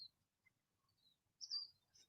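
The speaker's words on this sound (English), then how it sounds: "hearing the sound of the crow," Birds calling outdoors near a baseball diamond, a crow among them: faint scattered chirps and tweets, then a louder cluster of calls toward the end, with quiet background.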